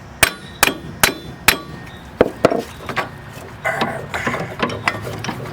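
Ratchet clicking while loosening a brake assembly during a wheel bearing replacement, sharp spaced clicks in short bursts followed by busier clattering, close and fairly loud with no talk.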